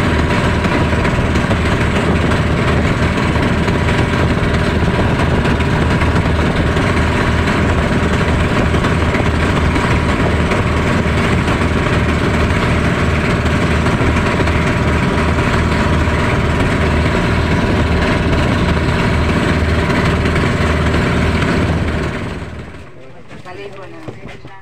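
A pumpboat engine running steadily, a loud continuous drone with heavy low rumble that holds close for most of the time and then drops away abruptly near the end.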